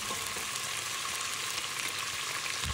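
Ginger and garlic frying in a hot pan for a cabbage and beef curry, a steady dense sizzle with faint stirring scrapes, close and unbroken, with no voices.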